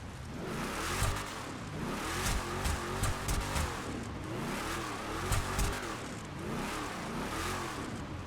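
A Vapid Trophy Truck in GTA 5 revs repeatedly, its engine rising and falling in rhythmic waves of acceleration, loud and close with no talking.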